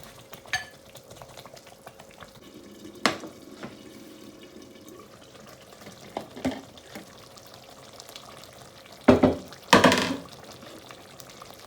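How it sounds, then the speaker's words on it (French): Tomato and okra sauce simmering on low heat, a faint, soft bubbling and light sizzle close by, broken by a few clinks and sharper knocks of a utensil against the pot. "Il faut laisser la sauce mijoter 10 minutes."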